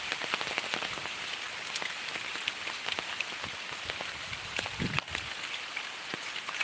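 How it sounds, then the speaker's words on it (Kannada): Dense rain pours down hard and steadily in a village during a windy storm, a constant hiss with sharp drips and taps pattering on nearby surfaces. "ಇಷ್ಟು ಜೋರಿನ ಮಳೆ ಇಷ್ಟು ವರ್ಷದಲ್ಲಿ ಇದೆ ಫಸ್ಟ್ ಅಂತ ಆಗ್ತದೆ ನನಗೆ"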